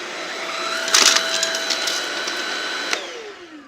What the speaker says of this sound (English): That Duo Clean technology, that soft roller brush, helped get the nut in the vacuum.